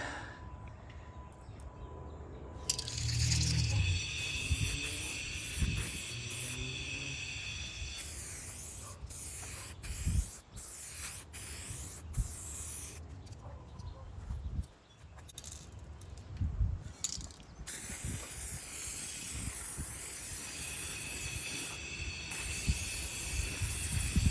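Bursts of spray gun hiss as 2K matte clear coat is laid onto carbon fiber motorcycle fairing parts, several long passes broken by short pauses and clicks, close and steady, with no talk.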